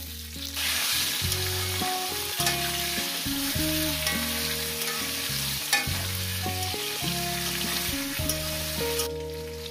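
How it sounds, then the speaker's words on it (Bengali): Potato pieces fry with cumin seeds in a pan, a continuous bright sizzle running under prominent background music with steady melodic notes throughout, and no one speaking. "আলুগুলোকে আমি মিনিট 4 ধরে ভেজে নেব।"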